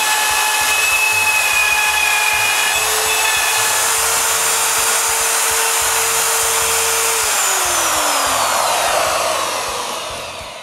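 A router fitted with a copying bit whines loudly and steadily while cutting hinge mortises in a wooden window frame along a template, the pitch dipping slightly near the end as it winds down.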